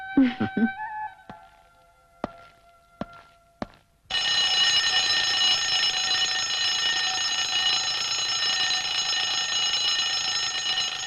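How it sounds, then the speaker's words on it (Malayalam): An alarm clock rings in a house after a few brief tones and clicks, then keeps up a loud, continuous metallic ringing that fills the rest of the stretch. "ഇതെന്തിനാ ഇപ്പൊ അലാറം അടിക്കുന്നു?"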